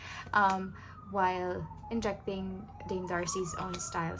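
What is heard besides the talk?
siren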